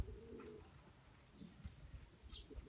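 Arab breed pigeon squabs give low, soft cooing murmurs in a quiet loft, faint and intermittent, with a light chirp near the end and no talking.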